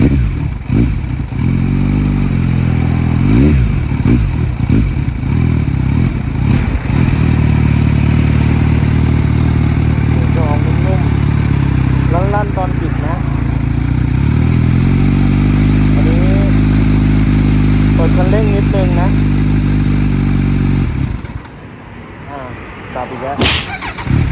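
A Kawasaki Z900 motorcycle with a Yoshimura R77 exhaust idles with a deep, throaty rumble and is revved several times, the pitch rising and falling, loud and close.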